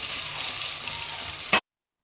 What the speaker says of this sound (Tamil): வெங்காயமும் பூண்டு நல்லா வதங்கணும் அதுக்கேற்ற மாதிரி வதக்கிக்கோங்க